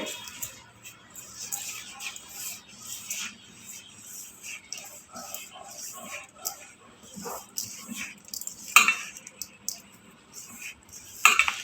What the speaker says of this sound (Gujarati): હવે આ બધો મસાલા મિક્સ કરી લઈએ।